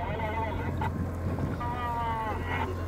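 A fishing boat engine runs steadily on a squid-catching trip, a constant low drone with wind noise over the microphone and faint creaks throughout.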